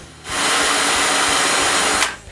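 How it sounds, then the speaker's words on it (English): A power drill bores a dowel hole in a wooden panel, making one steady high whine for about two seconds. It is close and loud, then cuts off sharply. "I drill the hole by eyeballing the angle"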